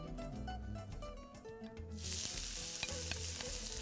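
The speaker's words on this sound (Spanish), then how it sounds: "vamos a echarle aquí un poquito de aceite para que se nos vaya luego pochando" Chopped onion dropped into hot olive oil in a pan, a steady quiet sizzle of gentle frying that starts abruptly after a moment of soft clatter and continues close by.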